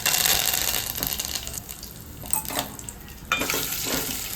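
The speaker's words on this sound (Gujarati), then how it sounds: "બટેટાને એકદમ ફ્રાય કરવાના છે સરસ" Potato pieces fry in hot oil in a home kitchen, giving a close, steady sizzle and crackle with a few louder stirring surges.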